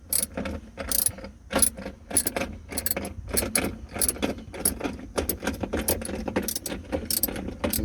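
Quick metallic ratcheting clicks from a ratchet on an extension loosening the battery hold-down clamp of a BMW 550i with an AGM H9 battery, coming in repeated close bursts with short pauses between them.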